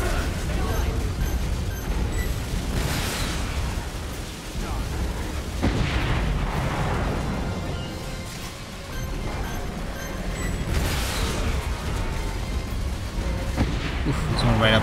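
Heavy, booming gunfire and explosions from the video game Earth Defense Force 5 on PC, loud and continuous with repeated blasts, mixed under excited talking.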